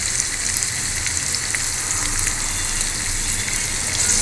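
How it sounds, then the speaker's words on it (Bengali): Fish frying in a pan gives a constant, loud, crackling sizzle that holds without a break from start to finish. "এই যে মাছ ভাজি করে রাখছি"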